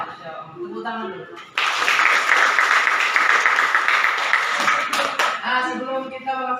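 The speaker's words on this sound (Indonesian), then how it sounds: "Tepuk tangan dulu." Classroom applause bursts out after a teacher's greeting, a dense burst of many hands clapping for several seconds, with talking before and after it.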